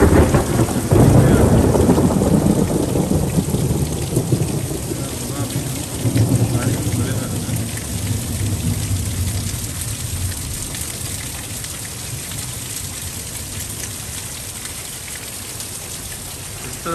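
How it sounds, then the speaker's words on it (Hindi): Heavy rain pours steadily outside with thunder rumbling, loud and continuous throughout, with a deep roll of thunder early on and again around the middle. "लेकिन बाहर इतनी तेज़ बारिश हो रही है पिछले से 2 घंटे से।"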